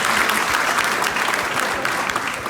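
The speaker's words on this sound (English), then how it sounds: "Can we give a round of applause for the speakers" An audience at a UK business event applauds the speakers, producing dense, sustained clapping from a sizeable crowd, loud and even throughout.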